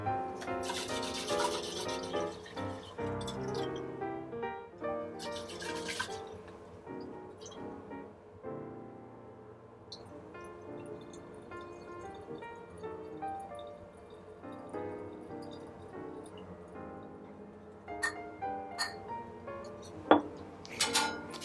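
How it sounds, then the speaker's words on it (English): A glass distillate flask being rinsed during steam distillation gives soft, irregular sloshing, glassy clinks and scrubbing rubs, faint and close, broken by a few sharper taps. "let's rinse the distillate flask again"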